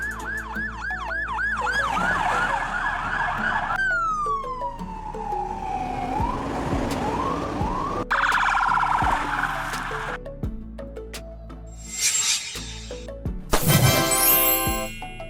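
A highway patrol police car's siren cycles through several tones: a rising-and-falling wail, a slower descending sweep, then rapid yelp and hi-lo bursts, loud and close throughout with short breaks between patterns.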